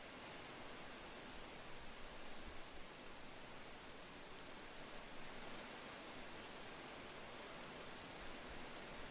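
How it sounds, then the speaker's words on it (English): Steady, even hiss of rainfall in the video game Sapiens, a dense continuous wash with no distinct drops standing out, fairly soft and unbroken throughout. "Oh no, it's raining and it's dark"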